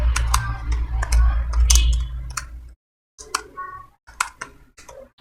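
Java code being typed on a computer keyboard, a run of close, busy key clicks with a low hum underneath, a brief silent gap, then a few more scattered keystrokes.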